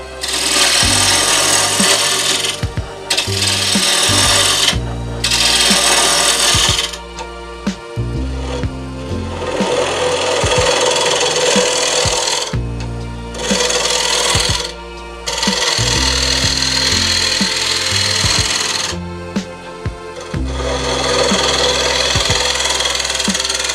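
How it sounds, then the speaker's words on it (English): An oak bowl blank with a wax coating is trued up on a woodturning lathe, the tool cutting in loud, close, rough bursts separated by short gaps where the motor hum continues. No one speaks. "The first step is to true up the blank and remove the wax coating."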